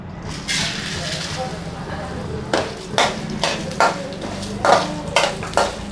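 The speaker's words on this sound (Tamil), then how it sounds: "நல்லா கலர் சேஞ்ச் ஆகிற வரைய நல்லா வறுத்துக்கோங்க." Black gram (urad dal) roasts in a pan over a medium flame while a spoon stirs it, giving repeated metallic scrapes and clinks against the pan. A voice talks over the stirring.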